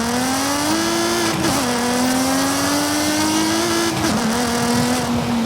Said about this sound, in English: it's no secret that the E46 M3 sounds completely wrong in Forza Horizon 5